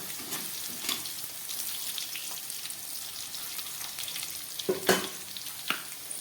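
Potatoes frying in a pan give off a steady low sizzle, broken by a few sharp stirring scrapes and knocks near the end, with no one talking.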